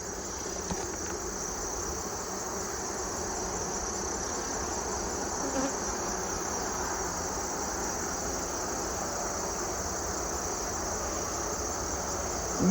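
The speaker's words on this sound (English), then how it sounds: "We got bees that are just glued to that honey." Honey bees humming steadily during a late-season hive inspection before winter, a continuous droning buzz with a faint high whine throughout, fairly close and even, without voices.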